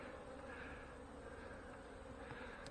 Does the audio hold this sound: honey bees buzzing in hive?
yes